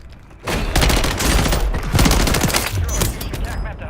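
Loud, sustained automatic gunfire rattles close behind the player in Call of Duty Warzone, dense bursts of rapid shots running almost continuously with a few heavier booms.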